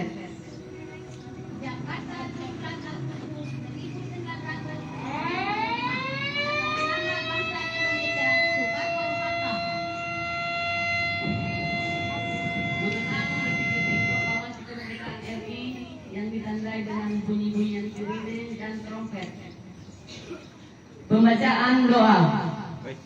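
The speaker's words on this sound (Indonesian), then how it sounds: "Mengenang detik-detik proklamasi kemerdekaan RI yang ditandai dengan bunyi-bunyian" Sirens and trumpets sound together at a neighbourhood commemoration of the Indonesian independence proclamation, a loud rising wail settling into sustained steady tones for several seconds over crowd noise, then fading into murmuring and a brief louder burst near the end.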